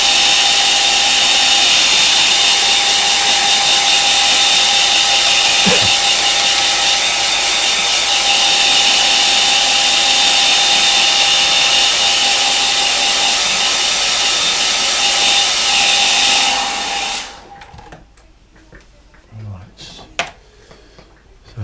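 A hair dryer blows steadily and loudly over wet watercolour paint on paper for about seventeen seconds, then shuts off, leaving quiet handling noises and a faint voice.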